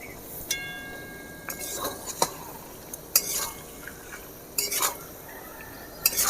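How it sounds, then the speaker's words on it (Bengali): A spoon stirs poppy seed, green chili and cashew paste into cauliflower and potatoes in a pan for a cauliflower curry, with close, irregular scrapes and metallic clinks against the pan. "এভাবে আমি নেড়ে দেবো"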